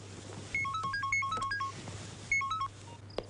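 A mobile phone rings with a bright, repeating electronic melody in two bursts, the second shorter, over a low steady hum indoors in a Hindi film scene.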